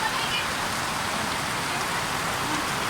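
Steady, dense rain falling and pattering on surfaces, an even wash of noise throughout with no voices.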